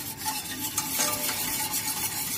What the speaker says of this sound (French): avec un fouet, on mélange.